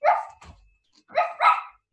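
Children's voices imitate a dog barking during a farmyard-themed kids' yoga session: three loud, close woof-like shouts, one short one followed by a pair in quick succession, with a brief pause between.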